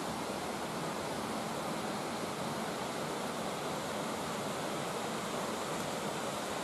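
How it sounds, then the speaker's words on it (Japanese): A river flows near a mountain shrine and waterfall in Higashiagatsuma, giving a steady, dense rushing wash that stays even and continuous throughout with no voices. "まあ、川が流れています。"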